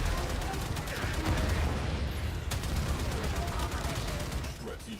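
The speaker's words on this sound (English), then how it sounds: "Fire torpedoes." Torpedoes are launched in the Warframe video game as a dense barrage of rapid booms and crackling impacts over a constant roar of battle, loud and sustained throughout.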